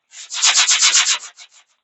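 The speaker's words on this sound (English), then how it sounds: "so we're sanding it down" Rhythmic hand sanding of a hand-forged steel hatchet fresh from the furnace, about eight quick, close, loud scraping strokes followed by a few fading lighter passes.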